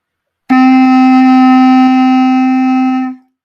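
A single clarinet note, D, held steadily for about three seconds, clear and close, then released, with no talking.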